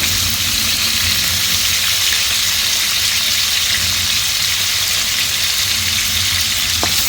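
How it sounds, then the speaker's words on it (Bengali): Fish frying hard in oil in a pan, a steady loud sizzle and crackle that fills the whole stretch with no pause. "দেখুন আমি মাছটা এখানে একটু কড়া করে ভেজে নেব।"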